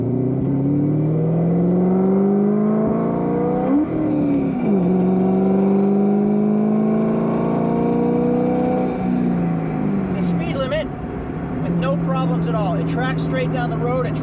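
A salvage-title Corvette accelerating on a test drive, its engine note climbing steadily and loudly before easing off, with someone talking near the end.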